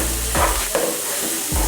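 Onion, ginger, crushed garlic and curry leaves fry in a pan for a mushroom masala, a close, steady hiss broken by three quick scraping strokes of a spoon stirring.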